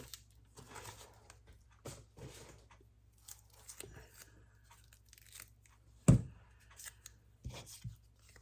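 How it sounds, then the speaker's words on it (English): Scissors snip through a strip of foam tape in a run of short, quiet cuts and crinkles, with one sharper, louder snip near the end. "Let me cut a strip of this foam tape so that I can use it."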